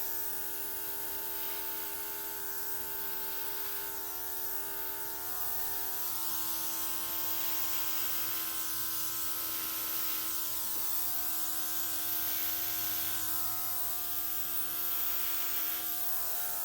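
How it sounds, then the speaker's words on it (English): An airbrush sprays paint with a faint, continuous hiss over a steady electric compressor hum, running unbroken throughout. "Just grab my airbrush and just blow a little bit of what I just did here with these puddles."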